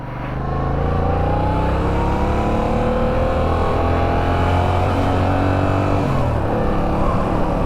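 A 2021 Yamaha MT-07 motorcycle pulls away and accelerates, its engine note climbing steadily and staying loud and close throughout, with no talking.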